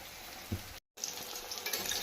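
Mustard greens pakoras fry in hot oil with a dense, steady sizzle, close and moderately loud, broken by a short silent gap.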